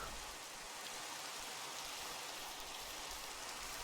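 Rain falls steadily in a dinosaur park video game, a soft continuous hiss of drops with no breaks, faint and even throughout.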